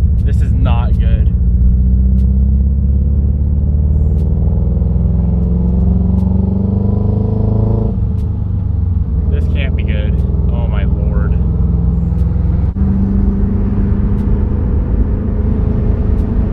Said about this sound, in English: the way it's idling and everything is like brrr, like it sounds like a Subaru